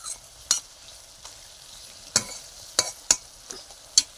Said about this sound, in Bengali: দেখো এটা সেই ছোট মাছের ঝাল হবে, শুকনো শুকনো করে।